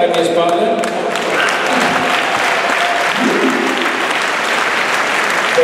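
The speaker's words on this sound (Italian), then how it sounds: "Io vorrei un grosso applauso per questo band alle mie spalle." Audience applause for an Italian blues band at a live show in Cerea, dense sustained clapping from a crowd, loud and close, with voices mixed in.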